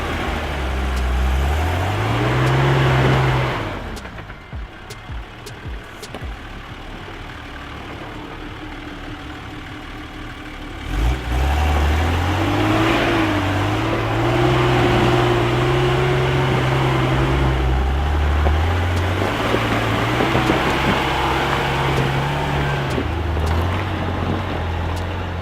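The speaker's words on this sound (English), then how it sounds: "our group leader James took on the first hill climb." A 4WD car climbs a steep hill on rough mountain terrain, its engine note rising and falling in long revving sweeps, dipping quiet briefly before surging again, with wind buffeting the microphone throughout.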